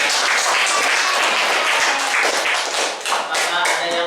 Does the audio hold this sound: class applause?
yes